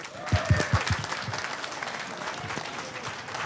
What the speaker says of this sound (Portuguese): Vamos aplaudir, né, gente?